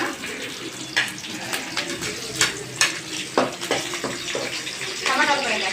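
Curry leaves hitting hot oil in a pan while cooking chicken curry, with crackling sizzle, spatter and stirring scrapes going steadily at close range.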